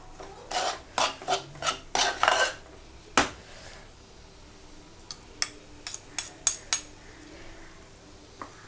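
A spoon stirring crab roast in a pan, giving a burst of quick scraping rubs in close succession, a pause, then a second scattered run of sharp scrapes and clinks, close and fairly soft.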